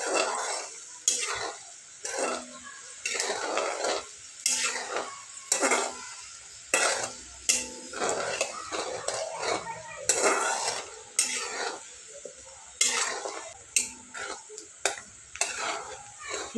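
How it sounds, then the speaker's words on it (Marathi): Homemade hair oil is stirred in a pan over a low flame, a spoon scraping and clinking against the metal in regular bursts over a faint sizzle, with pauses between strokes. "तो गॅस मी बारीकच ठेवलेला आहे। एकसारखं हलवत राहू आपण।"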